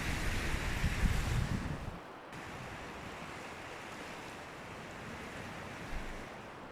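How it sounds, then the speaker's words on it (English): Ocean waves at South Hampton during a storm watch at sunset, a broad continuous roar of surf with wind buffeting the microphone, louder rush at the start then a steady wash. "Just love to watch the sunset and listen to the waves."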